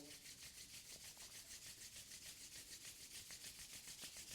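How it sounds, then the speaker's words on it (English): Palms rub together in a quick, even back-and-forth rhythm, a soft dry swishing that repeats steadily and sits faint and close. "bring your hands together and rub them"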